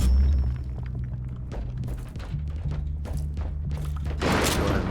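A shotgun fires flechette rounds in the video game Inquisitor Martyr, heavy booming blasts with deep thuds and a rapid burst of sharp impacts, loud and close, with no talk over them.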